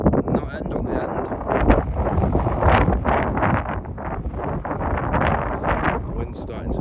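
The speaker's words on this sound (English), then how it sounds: "The wind's starting to blow through a bit now." Wind gusting across an open estuary walk, buffeting the microphone in a steady, rough rush with fluctuating bursts throughout, fairly loud and close.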